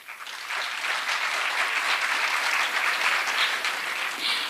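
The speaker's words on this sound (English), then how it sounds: "Please give a great round of applause for the chairperson of Granth" Applause from an audience at a ceremony welcoming a chairperson, a dense sustained wash of clapping that swells quickly and holds steady for several seconds.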